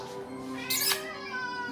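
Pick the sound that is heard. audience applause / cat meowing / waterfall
cat meowing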